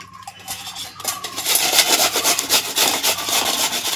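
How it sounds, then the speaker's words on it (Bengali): Raw mango pieces rubbed against a metal grater in a steady, dense rasping, scraping strokes close up that grow louder after the first second and continue without talk. "এখন একটা গ্রেটার নিয়েছি, এই গ্রেটারের সাহায্যে আমি আমগুলো গ্রেট করে নিব"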